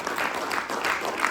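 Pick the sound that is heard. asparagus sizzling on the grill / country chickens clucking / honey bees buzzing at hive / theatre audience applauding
theatre audience applauding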